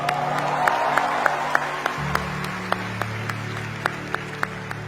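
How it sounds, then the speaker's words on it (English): Sustained applause from a large crowd at a comedy roast, dense clapping with a few louder claps standing out, over a low hum of the room. "Huge round of applause."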